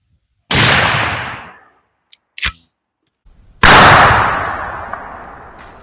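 A 12-gauge shotgun fires Remington Express #0 buckshot outdoors, with one sharp, loud blast that rings out and decays, a few quieter clicks and clacks of handling, then a second loud blast with a long fading tail.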